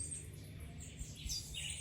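Small birds chirp softly in the open air at Rockland bird sanctuary in Jamaica, with brief high tweets scattered over a quiet, low background hum.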